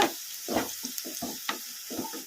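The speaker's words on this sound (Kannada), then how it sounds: "ಈಗ ಮೀಡಿಯಮ್ ಫ್ಲೇಮಲ್ಲಿ ಇಟ್ಕೊಂಡು ಇನ್ನೊಂದು ಐದು ನಿಮಿಷ ಫ್ರೈ ಮಾಡ್ಕೊಂಬಿಡೋಣ" Bitter gourd with garlic frying in a pan over a medium flame, giving a soft, steady sizzle and hiss with small irregular bursts as the pieces are moved.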